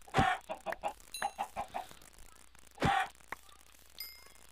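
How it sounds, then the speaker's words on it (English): Chickens in a video game cluck in short, bright bursts, a sharp squawk followed by a quick series of clucks, then another loud call and a soft chime-like tone, with near silence between. "While she's gone, I guess we'd better get the chickens."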